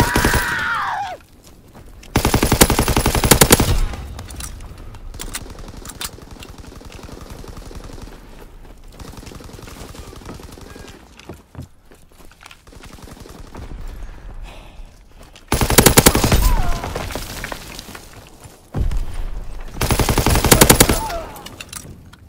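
Loud bursts of automatic weapon fire in the World War II shooter Call of Duty: WWII during team deathmatch, dense rattling volleys separated by quieter stretches of distant battle noise.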